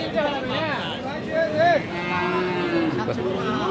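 Cattle, Friesian cross bulls and calves, moo loudly a few times amid a busy crowd chattering at a livestock market in Dinajpur, Bangladesh.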